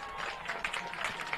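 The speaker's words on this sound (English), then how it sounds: "Give him a clap." Scattered applause from the crowd at a high school boys soccer match at Southeast Polk as an injured player gets up, faint and distant across a short stretch.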